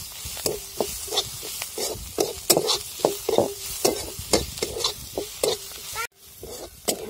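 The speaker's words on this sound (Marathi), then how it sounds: "कांदा आपण एकदम लाल परतून घ्यायले" Onion sizzling in masala for potato chutney while a spoon stirs it rhythmically in the pan, with repeated scraping strokes over a constant frying hiss and a brief pause near the end.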